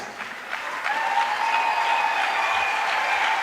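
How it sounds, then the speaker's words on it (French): A church congregation claps together as an offering of praise to Jesus, a dense, steady wave of hands that swells after the first second and holds loud and even, with faint voices mixed in. "A clap offering to Jesus"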